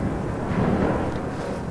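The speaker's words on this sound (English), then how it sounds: "Oh, listen to the storm out there." A thunderstorm outside in Fallout 4: a steady, dense low rumble like rolling thunder and wind, fairly loud, with no talk.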